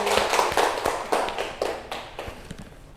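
Classroom applause during a microteaching session, a burst of close, uneven hand claps that thins out and fades over a few seconds, with no talk over it.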